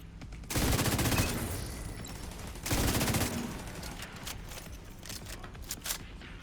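Automatic weapons rattle in The Division 2, two loud sustained bursts of rapid fire about two seconds apart, trailing into scattered shots and battle noise.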